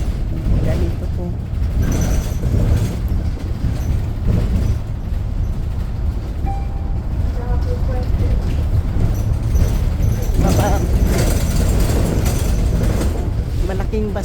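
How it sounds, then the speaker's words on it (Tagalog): Loud, steady rumble and rattle fill the interior of a large three-door city bus in motion, a continuous low-heavy drone with clattering mechanical knocks and shifting road noise throughout. "Malaking bus kasi po ito kaya maingay guys."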